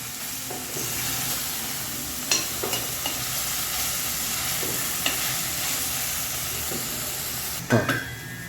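Masala with tomato and coriander cooking in a pan for prawn pulao, giving a steady close sizzle with occasional scraping stirs and spoon knocks, no talking.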